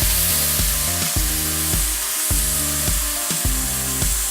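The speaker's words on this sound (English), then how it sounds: "what you're really looking for is a good sizzle." Asian-marinated flank steak in olive oil in a grill pan over medium-high heat gives a loud, steady, continuous sizzle, with a droning, cycling tonal hum underneath.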